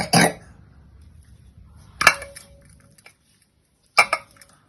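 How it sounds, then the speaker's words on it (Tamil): A knife slices through a red banana on a cutting board for an ice cream dessert, giving three separate crisp taps about two seconds apart with quiet pauses between them. "பனானா வந்து ஸ்லைஸா கட் பண்ணிக்கணும். இப்போ கட் பண்ண போறேன்."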